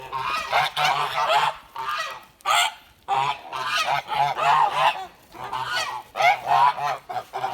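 Several Kholmogory geese and ganders honk loudly and repeatedly nearby, harsh calls overlapping in quick bursts with short pauses between them.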